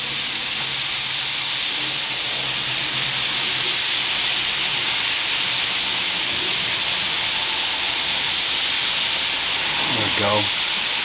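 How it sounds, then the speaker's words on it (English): Marinated pork belly dropped onto a hot grill, giving a loud, continuous sizzle and hiss close by, with a voice speaking briefly over it. "I'm gonna go ahead and drop in my pork belly"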